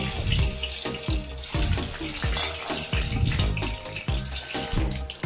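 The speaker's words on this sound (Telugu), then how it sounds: "ఆయిల్లో వేయించుకోవాలి." Boiled eggs tossed into hot oil in a pan, a continuous crackling sizzle with clattering stir and scrape sounds, close and busy throughout.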